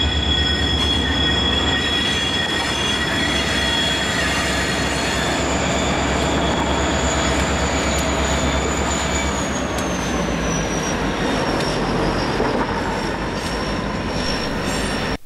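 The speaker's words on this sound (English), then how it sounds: "Once the locomotives cross over the switch, they will then be on the Reading and Northern's KV branch." Freight locomotives cross a switch onto the Reading and Northern's Keyser Valley branch, with loud continuous wheel squeal and high metallic screeching over a rumbling rail roar, sustained throughout.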